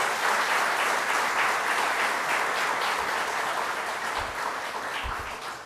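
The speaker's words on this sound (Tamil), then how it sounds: "தயவுசெய்து அந்த நிர்வாகிகளுக்கு ஒரு அரங்கம் நிறைந்த கைத்தட்டு" A packed audience at a Kovai Nagaichuvai Sangam humour club gathering claps steadily for the organisers: dense, sustained applause filling the hall that tapers slightly toward the end, with no voices over it.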